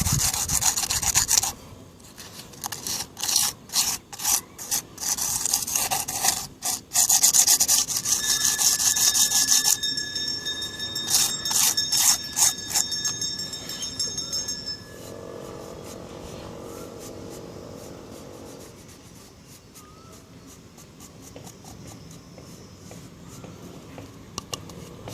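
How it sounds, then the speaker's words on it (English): Sandpaper rasps along the edges of a concrete succulent pot in close, rhythmic strokes that are loud and choppy at first, then thin into quieter, steadier rubbing. "you can just take a sandpaper and just sand it out"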